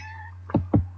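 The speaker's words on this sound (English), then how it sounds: "As you can probably hear me cat's meowing at me as well." A pet cat named Whiskers gives two short meows in quick succession, close and clear over a low steady hum, with no talk.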